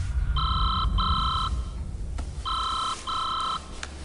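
A mobile phone ringing loudly and close by, two double-burst electronic trills in a repeating ring pattern over a low background rumble.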